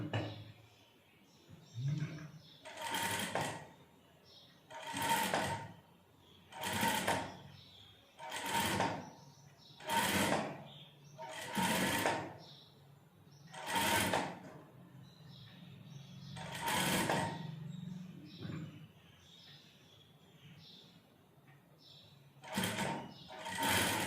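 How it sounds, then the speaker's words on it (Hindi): Sewing machine running straight stitches across a quilt in repeated short bursts, a rhythmic whirring roughly every second or two, close but fairly quiet, with brief pauses between runs. "पक्की सिलाई लगा देंगे 1/2 इंच की गैप पे।"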